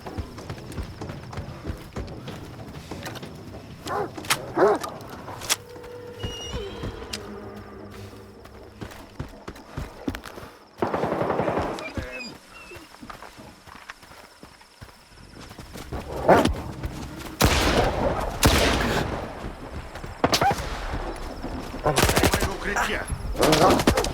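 Gunfire in the shooter game S.T.A.L.K.E.R. 2, scattered single shots and short rapid bursts, fairly close, separated by footsteps, rustling and other game noise, growing denser toward the end.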